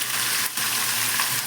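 Chicken sizzling in a pan, an even, close frying hiss with a brief stir around the middle.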